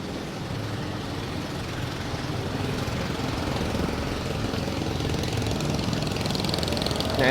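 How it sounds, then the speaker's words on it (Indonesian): Motorbikes and cars pass along a street by the Yogyakarta palace fortress, a steady engine drone and rumble that swells slightly as traffic nears. "Banyak motor mobil dari situ."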